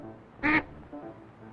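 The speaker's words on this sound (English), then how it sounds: "Here we see wild geese making their annual goose chase." Wild geese in a cartoon give one short, nasal honking call that stands out clearly over a faint background, followed by softer traces.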